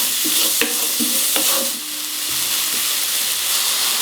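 Courgette slices sizzle in a hot pan, with a few sharp utensil scrapes and clacks of stirring over a steady frying hiss.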